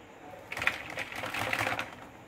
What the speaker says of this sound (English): ginagalaw ko yung touchpad tsaka yung keyboard